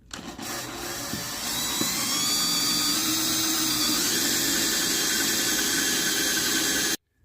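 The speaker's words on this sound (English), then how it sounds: "I use a little WD-40, and then go ahead and drill your first hole." Drill boring a hole in a hard forged rifle receiver lubricated with WD-40, a steady loud high-pitched whine and squeal that runs continuously for about seven seconds, then stops abruptly.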